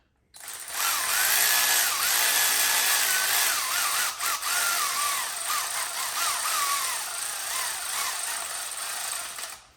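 An impact tool drives a thread chaser into a bolt hole on an LS V8 engine (LQ4), a loud, close, continuous buzzing whir lasting about nine seconds with varying pitch and a brief dip midway.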